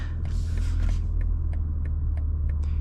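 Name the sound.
BMW M4 Competition exhaust with valves closed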